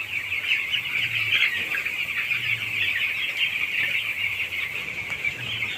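Ten-day-old broiler chicks in a poultry farm shed give a continuous dense chorus of high peeping as they are chased toward water, loud and close with a low background hum.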